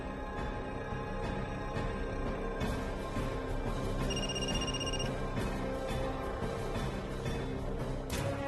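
A household telephone rings in a Marathi TV serial scene, with a repeated electronic bell tone that stands out clearly over steady background ambience, and no talking.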